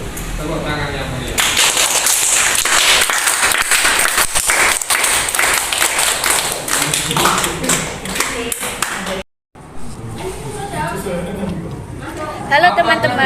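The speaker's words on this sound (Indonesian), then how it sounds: "Tepuk tangan yang mulia." Audience applause at an Indonesian school event, loud and sustained clapping from a crowd with chatter throughout, a brief break, then more clapping and cheering.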